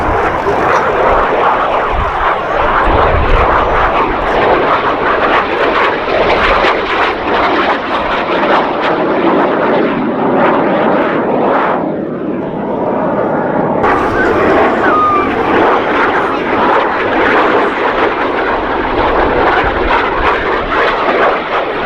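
Percival Provost aircraft making a pass at the Duxford air festival, a steady loud engine roar sweeping by close overhead, with a brief dip midway and a commentator's voice over the public address throughout.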